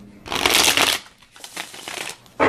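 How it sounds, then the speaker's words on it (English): Tarot deck with sturdy cardstock being riffle shuffled up close, a loud fluttering burst of cards followed by softer rustles and a final quick riffle, with no talking. "Shuffles like a dream. I like the cardstock because I can riffle shuffle it."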